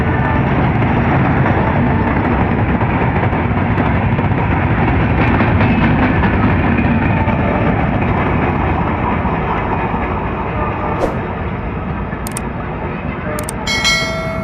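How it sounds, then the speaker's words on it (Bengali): Madhumati Express passenger train pulling out of Dhaka bound for Rajshahi, a loud, steady rolling rumble of wheels and carriages filling the whole stretch, with a few sharp metallic clanks toward the end. "মধুমতি এক্সপ্রেস ট্রেন রাজশাহীর উদ্দেশ্যে বের হয়ে যাচ্ছে তিনটায় ঢাকা থেকে"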